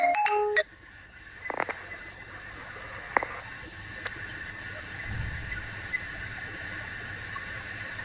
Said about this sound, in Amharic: ስልክ መጥቶበታል መሰለኝ